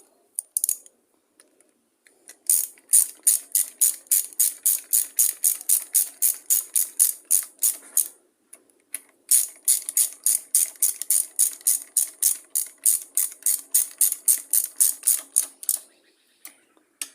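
A ratchet clicks rapidly in steady bursts while tightening down a part on a line trimmer being repaired after sitting a long time; loud, close, crisp repeated clicking with short pauses between runs, and no speech.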